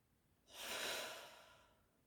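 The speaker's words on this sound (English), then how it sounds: "take a deep breath in" A slow, deep inhale and exhale, a broad soft rush of breath swelling in after a brief quiet, holding steady and then fading out gently, close and alone.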